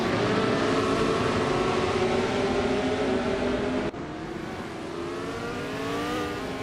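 Several race cars, led by a classic 1966 McLaren M10A, accelerate off the start at Baskerville in a racing video game, a dense sustained engine roar with rising revving tones that briefly cuts and resumes slightly quieter.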